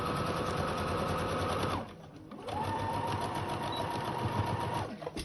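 Sewing machine stitching the seam of a round floor cushion, running steadily and loudly up close, pausing briefly partway, then starting again and running steadily until it stops at the end.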